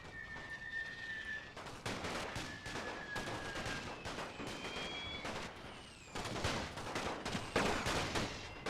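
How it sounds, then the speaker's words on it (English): Rapid, overlapping rifle and machine-gun fire in a World War One battle against British troops in a Total War mod, crackling in dense bursts with faint whistling streaks above the steady din. "So we're exchanging fire."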